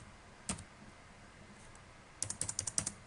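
A burst of quick computer keyboard keystrokes as a folder name is typed, with one isolated click first and then a rapid run of close, crisp taps near the end.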